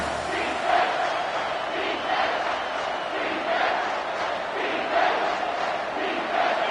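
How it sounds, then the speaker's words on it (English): Crowd noise from an American football video game swells and roars steadily through a third-down play, with rhythmic waves of cheering and chanting filling the stadium at a loud, continuous level. "3rd down, and the crowd really getting into it."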